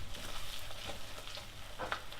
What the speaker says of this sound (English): Once your butter's nice and foamy, then in go the onions.